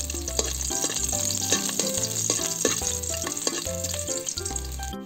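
Ginger sizzles steadily in hot oil in a pan while being stirred, a dense continuous frying hiss close by with brief scraping accents, for spicy pork offal adobo.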